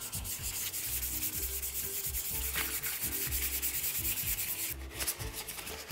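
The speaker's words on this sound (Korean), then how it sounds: "더 살살 곱게 사포를 해줘야 돼요" Paper sandpaper is rubbed by hand over a napkin-craft piece in a small neighborhood craft workshop, making gentle, close, rhythmic back-and-forth scratching strokes that continue steadily with no talking.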